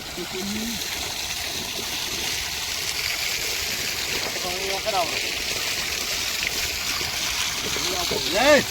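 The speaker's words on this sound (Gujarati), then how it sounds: "ઓલા ઊંચો કરી નાખ્યો, વધારે પાણી નીકળે।" Steady rushing of water gushing from a farm pipe in a constant stream, with people talking over it.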